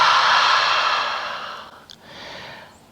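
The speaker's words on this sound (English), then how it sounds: "Inhale nose, exhale mouth." A deep exhale through the mouth during a slow yoga breathing exercise, one long breathy rush that fades out, close and alone, followed by a soft faint second breath.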